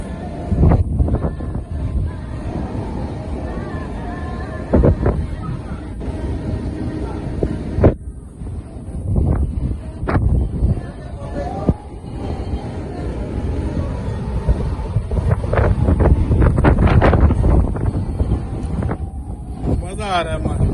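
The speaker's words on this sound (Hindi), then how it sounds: "ठंडी ठंडी हवा चल रही है।" Cool wind blowing on a boat at sea, heavy rumbling gusts buffeting the microphone throughout, loud and close, with people talking over it.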